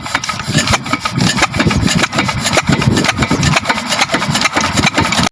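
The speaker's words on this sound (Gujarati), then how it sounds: "હવે મશીન ચાલુ કરી દઈએ આપણે." An irrigation water pump engine runs in a wheat field, a loud, rough mechanical chugging with a rapid rhythmic pulse, close and continuous with no talk.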